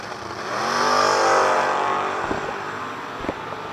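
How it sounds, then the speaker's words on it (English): Drag race cars, one an '86 Mustang, roaring past at a strip, a loud engine sweep swelling and fading as they pass, followed by a couple of short sharp pops. "Good clean drag race right here"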